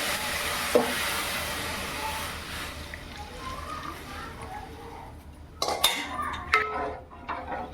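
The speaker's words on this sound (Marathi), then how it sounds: "हा अर्धा लिटर दूध मी गाजरमध्ये टाकून घेतलं आहे" Heated milk poured into carrots in a hot pan with ghee for carrot kheer, a soft liquid wash under scattered clinks of utensils against the pan and a few sharper knocks near the end.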